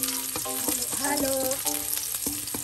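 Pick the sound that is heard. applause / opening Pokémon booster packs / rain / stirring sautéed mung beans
stirring sautéed mung beans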